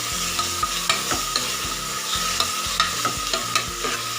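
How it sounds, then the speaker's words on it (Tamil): Ground masala paste being sautéed for a country chicken curry: a continuous sizzle in the pan broken by regular scraping strokes of a spoon, close and clear, with no voices. "நம்ம அரைச்சி வச்சுருக்க இந்த விழுதுகளையும் இது கூட சேர்த்துட்டு நல்லா வதக்கி விட்டுருங்க"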